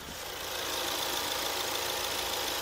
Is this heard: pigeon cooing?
no